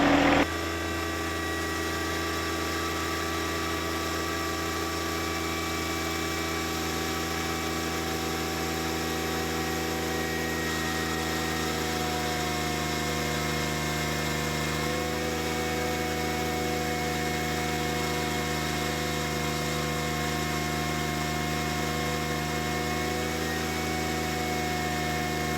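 A John Deere 1025R compact tractor engine idles steadily in low range, a constant close mechanical drone with harmonic hum and no change in pitch throughout.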